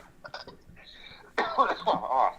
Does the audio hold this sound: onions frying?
no